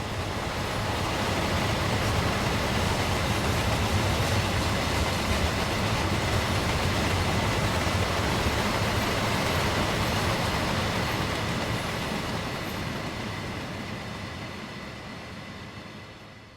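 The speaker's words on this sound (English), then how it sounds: "Class 66s dominate the freight scene. Here 66787 is on hire to Freightliner, leading the 6 Mike 91 Theal to Hope Earl sidings." Class 66 diesel locomotive 66787, on hire to Freightliner, hauls a freight train. A dense, continuous roar of engine and rolling wagons holds loud and steady, then slowly fades toward the end.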